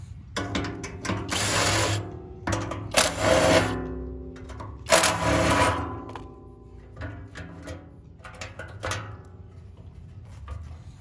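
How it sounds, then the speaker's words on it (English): Screws are removed from the metal tank of a trashed blower with a power driver, heard as several short close whirring bursts mixed with ratcheting clicks and small metallic handling knocks. "So I'm gonna go ahead and take the rest of the screws off and take the tank down."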